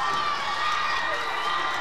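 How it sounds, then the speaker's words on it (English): High school football student section cheering after a safety, a distant, steady crowd roar with shouting, filling the whole moment without a clear break. "The Skyview student section has something to cheer about."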